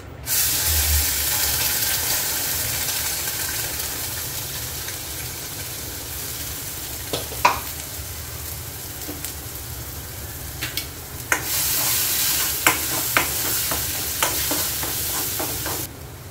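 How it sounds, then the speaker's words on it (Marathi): A ground spice paste with homemade red chili masala fries in a pan with a continuous loud sizzle. Scraping stirs and light utensil clinks grow more frequent toward the end. "तर ह्याच्यामध्ये मी हे वाटण घालून घेते."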